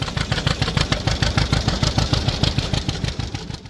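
A John Deere Model G row-crop tractor engine runs steadily with a low, pulsing idle rhythm, heard close and alone without any talk.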